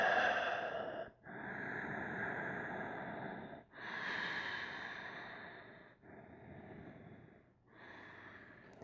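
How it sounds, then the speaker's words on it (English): Slow, deep breathing during a Cat Cow yoga class: long drawn-out breaths through the nose, about four of them, each lasting a couple of seconds with brief pauses between, close and steady. "Take a couple breaths."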